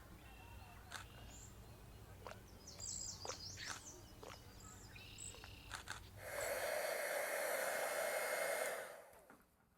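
A hair dryer blows loudly and steadily for about three seconds over a painted plate decorated with waxwing birds, then cuts off; quieter rustling and small handling sounds come before it.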